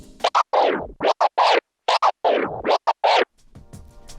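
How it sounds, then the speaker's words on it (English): Rapid turntable scratches in quick choppy bursts, the record's pitch sweeping up and down with short cuts between strokes, loud and close. "executing the Twiddle over the baby scratch jog wheel movements"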